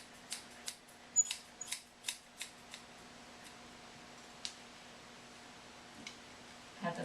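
Scissors trim the hair between an Australian Shepherd's toes during a grooming session, giving a series of light, quick snips clustered early and then a few sparse ones, faint against a quiet room hum.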